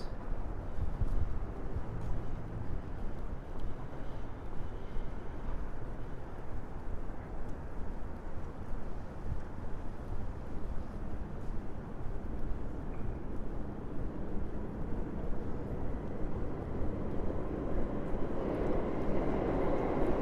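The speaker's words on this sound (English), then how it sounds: "That's the sound of the New York City subway." A steady, heavy low rumble of a New York City subway train, continuous and fairly loud throughout, with no voices.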